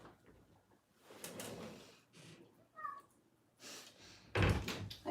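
A house cat gives a short meow indoors, set among scattered door knocks, thunks and drawer-like bumps, with no speech.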